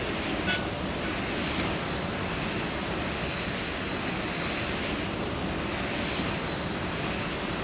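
Steady broadband roar of a KLM MD-11 airliner on approach to the runway in a flight simulator game, a continuous even engine and wind rush at constant loudness throughout.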